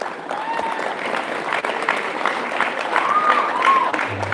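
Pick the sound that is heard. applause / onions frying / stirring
applause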